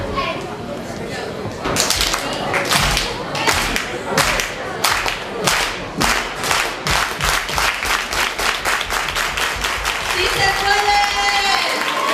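An audience at a political gathering claps in unison, a loud, steady rhythmic clap that starts with a few spaced hits and speeds into quick regular beats over about ten seconds.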